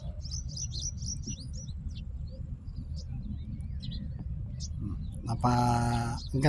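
Birds chirp and tweet in quick scattered bursts over a low rumble, with a louder harsher call near the end.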